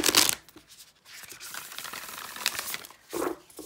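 A collaged tarot deck slightly larger than standard size being shuffled by hand, with close crinkly slides and papery flutters in short uneven bursts, louder at the start and end.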